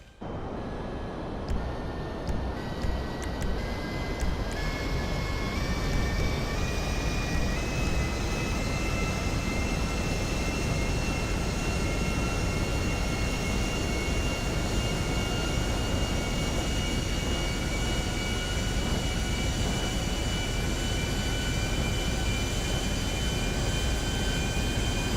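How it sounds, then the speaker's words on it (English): Aircraft engines drone overhead in a flight video game, a steady loud roar with rising tonal whine that holds for the whole stretch, no talking. "What is going on with these aircraft?"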